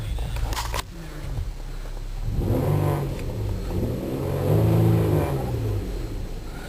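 The 4-liter V6 of a 2005 Nissan Pathfinder revs up twice in the open, rising and falling in pitch with a steady idle between the bursts, loud and close to the exhaust.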